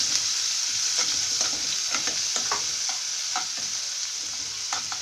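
Green chillies sautéing in a pan for a bread omelet, a bright steady sizzle broken by repeated light scrapes and taps of a spatula, close and continuous with no talk.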